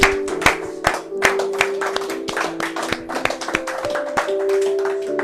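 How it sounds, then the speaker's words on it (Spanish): In a church service, a congregation claps in quick, uneven bursts while sustained musical tones, like a keyboard or organ, hold underneath throughout. "¿Quiere darle un aplauso al Rey de Gloria?"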